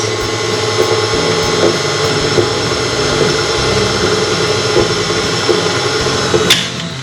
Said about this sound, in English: we can mix them in with the mixer